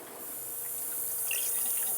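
Water poured into the radiator of an old, long-abandoned Ford F100 pickup, a soft steady splashing and trickling stream that grows slightly louder over two seconds, with no talking.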